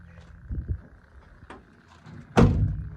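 A door on a 1973 GMC cabover truck shuts with a heavy thunk near the end, after a couple of softer knocks and a faint voice.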